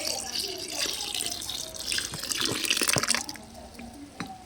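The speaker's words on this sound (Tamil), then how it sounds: "இதுக்கு மேலே புளிச்ச மோரை ஊற்றிக்குவோம்." Sour buttermilk poured over a homemade fertilizer mix of coconut and banana, a steady close splashing trickle of liquid that swells and fades, with a few drips near the end.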